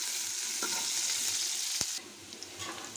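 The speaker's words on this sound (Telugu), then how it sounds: "దంచుకున్న వెల్లుల్లి, ఆనియన్, ఇవన్నీ ఒకసారి ఫ్రై చేసుకుందాం." Crushed garlic and onion frying in a pan, a steady close sizzle broken by a single sharp clink of a spoon, after which the hiss drops slightly quieter.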